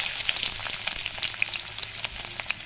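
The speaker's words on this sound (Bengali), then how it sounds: "দিয়ে নেড়ে চেড়ে পেঁয়াজটা লাল লাল করে একটু ভেজে নেব।" Chopped onion sizzles and crackles steadily in hot oil in a pan, a dense, continuous frying hiss with small pops throughout, close and fairly loud, no voices.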